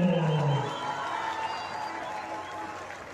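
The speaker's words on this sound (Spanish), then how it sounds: "que se escuche más fuerte ese aplauso." A crowd at a patriotic fiestas patrias celebration in Real del Monte claps and cheers in a steady wash of applause, loud at first and then easing off.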